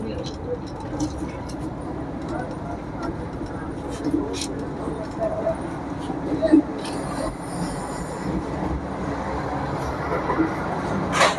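Inside a moving Howrah–Puri Vande Bharat Express, a steady low rumble of the running train fills the cabin, with occasional rattles and faint wheel squeal, while someone talks over it.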